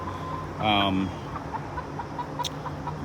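Chickens in a hen house, young pullets just starting to lay, give a short burst of clucking near the start and then scattered soft clucks over a steady low background.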